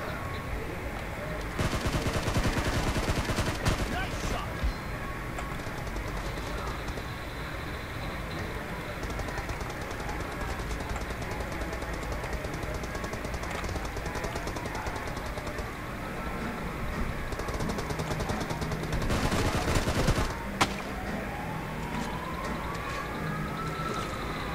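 Gunfire in the PUBG battle royale video game, continuous crackling shots and bursts over a dense game soundscape, with louder volleys near the start and toward the end.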